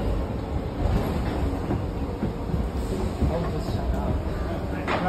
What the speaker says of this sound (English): This is Northbound number 1 train.